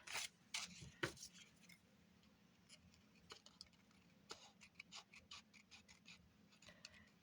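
Cheap scissors snip repeatedly as they cut, making faint, close, irregular crisp clicks and crunches over a quiet room.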